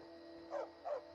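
A dog in Skyrim gives two short barks in quick succession, clear and fairly close over a low steady background hum.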